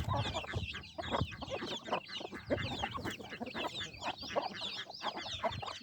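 Hens clucking continuously with higher peeping from chicks mixed in around a basket at feeding time, a busy, close farmyard chatter with no voices.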